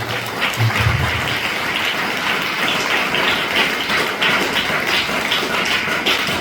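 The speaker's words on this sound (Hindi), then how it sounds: "एक बार जोरदार ताली बजा देते हैं" A church congregation at a novena mass claps loudly and steadily, a dense wash of many hands with no pauses, sounding close and full.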